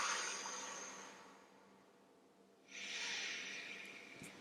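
Slow, deep breathing during a yoga session, with a long exhale that fades and then a strong, airy inhale close to the mic, and no talking.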